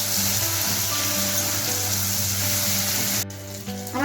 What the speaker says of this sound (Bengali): আমার টমেটোটা ভাজা হয়ে গেছে